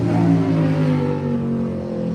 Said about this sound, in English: That's why I'm talking loud, because a lot of cars riding by.